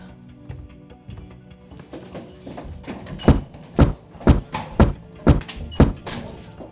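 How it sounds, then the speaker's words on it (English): Heavy knocks bang on a door in a steady sequence of about six loud, evenly spaced thumps, close by, following a quieter stretch with no talk. "Why are you banging on my door at this hour?"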